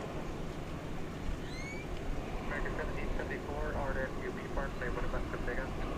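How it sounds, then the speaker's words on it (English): A big Airbus A350-900 jet roaring on takeoff from a DFW Airport runway, a loud sustained engine rumble heard from a distance, with a voice talking over it. "There goes the big A350 900 off to Helsinki."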